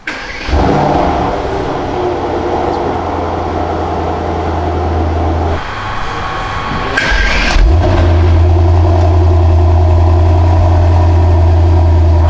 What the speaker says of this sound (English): So let's hear it, cold start.